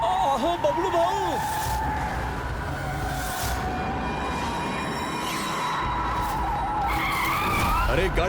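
A stolen car drives in with tires skidding and squealing in long, wavering screeches, loud and close, with voices heard alongside.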